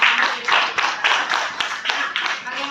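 Hands clapping in a classroom during an academic coaching session, a steady run of sharp claps from a few people with some voices mixed in.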